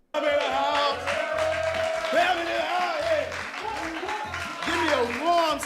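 Audience applause and hand clapping at an evening show, a dense wash of clapping that fills the whole stretch, with music or voices running underneath.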